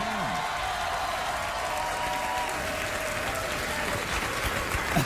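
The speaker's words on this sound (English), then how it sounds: "an Oscar-winning movie star is worth a round of applause" A television studio audience applauds for a late-night talk show's guest, an Oscar-winning movie star: loud, dense, sustained clapping with no break and no voices over it.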